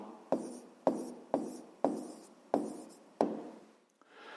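Pen or chalk strokes mark out an answer in six sharp taps at a regular pace, each followed by a short scratching trail, then a faint rustle at the end.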